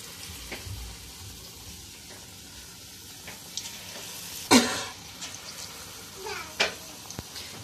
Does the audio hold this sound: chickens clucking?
no